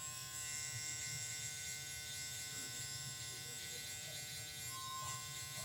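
Stylecraft Instinct hair clipper with a taper-fade blade cutting hair near the skin line, a steady close electric buzz running throughout.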